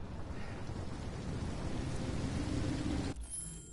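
Heavy rain and thunderstorm rumble in the video game Detroit: Become Human form a steady, dense wash throughout, then thin out abruptly near the end.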